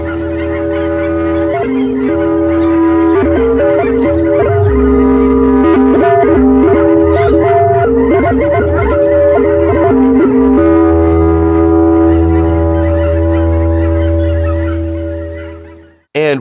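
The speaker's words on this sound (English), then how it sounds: "this audio recording from freesound.org of Canada Geese that Wingie seems to get really excited by" A recording of Canada geese honking is fed through a Wingie resonator, turning the calls into loud, sustained ringing tones with pitched honks flickering on top, continuous for about sixteen seconds before cutting off.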